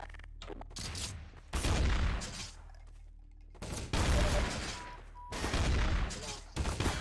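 Rapid bursts of AK rifle fire in a video game crack out in several loud volleys, separated by short quieter gaps.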